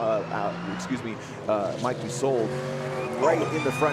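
A race car engine screams around the Road America circuit during a GRIDLIFE Summer Apex event, its pitch rising and falling steadily under continuous commentary from a trackside announcer.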